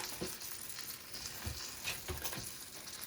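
Chicken legs frying for dinner, a steady quiet sizzle with small pops and crackles running throughout, no talking.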